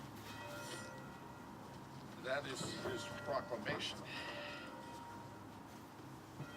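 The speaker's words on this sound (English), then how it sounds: "you can hear the bells now ringing" Bells ring faintly at an outdoor Veterans Day ceremony in Wayland, their tones chiming in a loose cluster beneath someone speaking.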